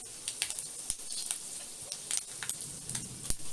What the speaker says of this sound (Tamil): கடாயில் எண்ணெய் ஊற்றி கடுகு போட்டு தாளிச்சுக்கோங்க. கடுகு இல்லை வடகம் போட்டு தாளிச்சுக்கோங்க.